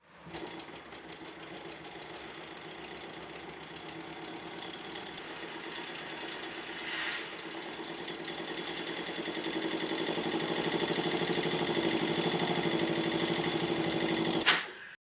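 A small brass model traction engine runs on steam with a rapid, even mechanical chuffing and clatter, steady and close, growing slightly louder, with a brief sharp knock near the end.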